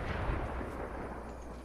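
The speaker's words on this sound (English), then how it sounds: "I'm just tossing grenades." Grenade explosions in Fortnite, a deep rumbling blast that rolls and fades over a second or two, fairly loud with no talk.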